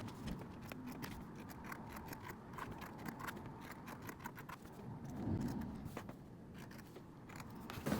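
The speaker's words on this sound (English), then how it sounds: "We'll pin it in place and then just cut out all around the edges here." Scissors cut through two pinned layers of canvas fabric for a pencil pouch, a close, soft run of repeated crunching snips and rustles over a low background hum.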